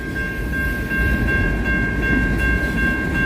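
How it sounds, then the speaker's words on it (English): A train rolls past at night in eastern Canada, a loud steady rumble of railcars with a sustained high tonal whine running throughout, close and continuous without talk. "This train might actually pass La Bique eventually, eh?"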